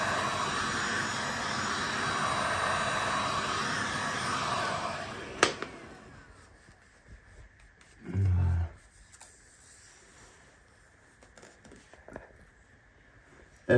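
A heat gun blows hot air onto rim decal stickers on a Sherco motorbike. It gives a loud, steady roar for about five seconds and then cuts off, leaving quieter handling sounds and one short low thump.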